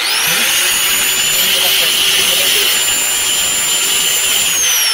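A Lotus angle grinder runs continuously at high speed, a loud, steady, close whine that stays level throughout with no pauses.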